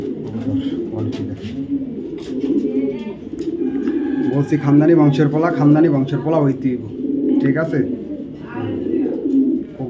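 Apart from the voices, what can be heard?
pigeons cooing, young ARPCD club racing pigeon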